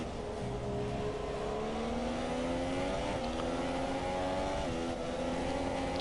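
A Mercedes-engined Formula 1 car screams steadily at high revs, pitch climbing through the gears, in F1 2017 at the Chinese Grand Prix, loud and close with no talk.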